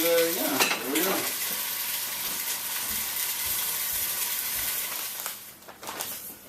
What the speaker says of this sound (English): so we got it browned up to sealing all the juices here